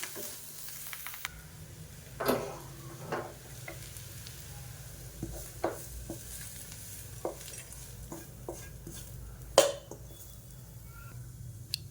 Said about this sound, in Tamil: இப்போ தான் நல்லா கலந்து விட்டுக்கலாம்